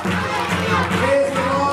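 A church congregation at a Christmas festival claps and cheers together, a loud mass of crowd noise with shouts and a raised voice over it.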